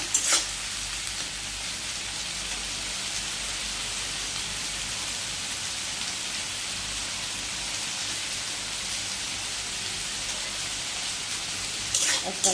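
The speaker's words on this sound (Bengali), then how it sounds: "পেঁয়াজটা একটু লাইট গোল্ডেন ব্রাউন করে নেবেন মানে হালকা ভাজা" Onion frying in a pan until light golden brown, a steady soft hiss of sizzling oil running throughout with a few louder stirring scrapes at the start and end.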